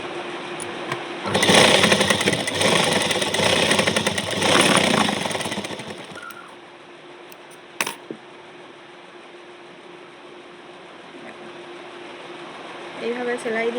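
Sewing machine stitching fabric, loud rapid whirring run for several seconds, then stopping, followed by quieter handling noise and a brief clack; a voice talks lightly around it.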